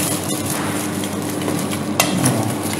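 Cornstarch is stirred into cold water in a bowl for a kue jala baking demo, giving close, continuous swishing with faint utensil clinks and no voices.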